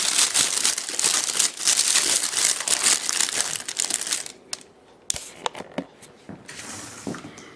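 Thin plastic bags crinkle and rustle loudly up close as they are pulled open, with a dense burst of crackling followed by a few sharper separate rustles.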